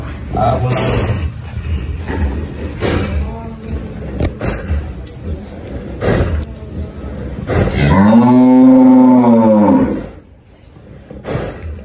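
A cow, recently calved and lying down ill, lets out a long loud moo near the end, with people talking close by throughout.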